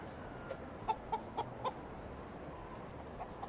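Chickens clucking in the medieval farming game Medieval Dynasty, a few short clucks spaced through the middle of the clip over a steady, busy farmyard ambience.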